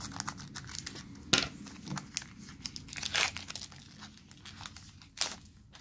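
Close, quiet crinkling and several sharp rips as a Pokémon booster pack's foil wrapper is torn open, with bursts of tearing spread between softer rustles.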